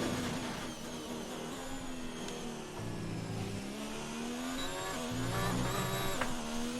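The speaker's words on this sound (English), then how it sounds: "Spun the tires pretty bad" Car tyres spinning under throttle in the F1 2019 racing game at the Hungary circuit, a steady high engine whine with rising revving pitch and bursts of tyre scrub, loud and continuous throughout.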